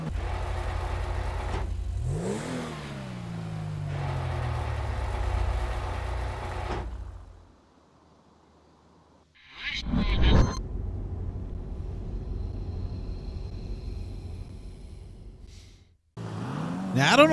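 A Maxwell Asbo tuner car in GTA revving hard with rising engine pitch, then cutting out, followed by a brief loud burst and another stretch of engine drone.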